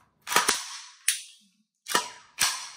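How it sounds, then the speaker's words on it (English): On a Recover Tactical P-IX pistol, the trigger is pulled and reset repeatedly, making five sharp, close snapping clicks spaced apart in a quiet room, with no speech. "Pull the trigger, reset, pull the trigger."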